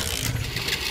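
A 125cc race-tuned motorbike engine idles close by, a steady low rumble with a buzzy upper hiss throughout the brief moment.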